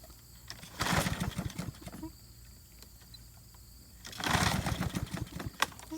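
Snapper self-propelled lawnmower engine with a backfire fault running near, surging in two loud bursts of rough, popping combustion between quieter idling stretches.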